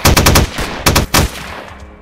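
Bursts of gunfire from the video game Stalker: two rapid automatic volleys up front, then a few sharper single shots around the one-second mark, loud and close, fading into quiet ambience.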